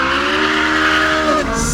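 A Ferrari 458 Speciale with a Novitec exhaust screams loudly at high revs with a sustained, tonal engine wail as its tires slide and squeal, the pitch dipping near the end.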